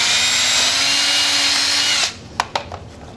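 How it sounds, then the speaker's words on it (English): Power drill whirring steadily as it bores holes for a GoPro mount on a motorcycle's rear top pannier, then cutting off abruptly into a few short clicks and knocks. "Let's drill some more."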